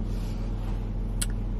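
Inside a car, a steady low road and engine rumble hums evenly throughout, with a short faint click near the end and no talking.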